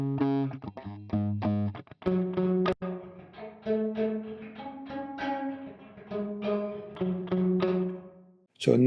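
Electric guitar drenched in reverb, played as a run of distinct notes and chords, each attack trailing into a smeared tail, steady and fairly loud with no voices.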